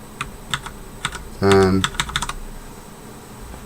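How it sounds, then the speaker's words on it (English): Keys clatter on a Qpad MK-85 mechanical gaming keyboard: a short run of close, crisp keystrokes with a dense burst in the middle, then a few scattered taps, under faint speech. "The Qpad MK-85 mechanical gaming keyboard."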